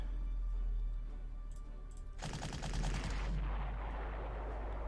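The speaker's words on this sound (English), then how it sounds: "Shell the artillery." Artillery shelling in the Panzer Corps strategy game, heard as a short burst of rapid booming shots midway through, set over steady background music.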